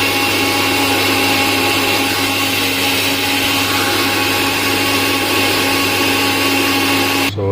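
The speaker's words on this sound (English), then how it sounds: "so here we have to grind our onion first." Mixer grinder chopping onion for a sweet corn curry: a loud, steady motor whine with a broad grinding roar runs unbroken for about seven seconds, cutting off abruptly at the end.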